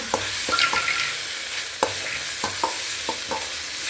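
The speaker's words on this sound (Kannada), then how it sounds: "ಹಾಗಾಗಿ ಇದನ್ನು ಕೂಡ ಹಾಗೇ ಸ್ವಲ್ಪ ಫ್ರೈ ಮಾಡ್ಕೊಳ್ಳೋಣ" Ginger paste and garlic paste frying in a pan for a homemade gravy, with a steady sizzle broken by several sharp scrapes and taps of a stirring spoon, close and fairly loud, no talking.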